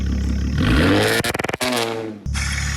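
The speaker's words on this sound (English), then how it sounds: "Get a little throttle twisty right now." A test-drive engine revs hard as the throttle is twisted, climbing in pitch and then stuttering through a rapid clattering burst before dropping back to a rough idle, all close and loud.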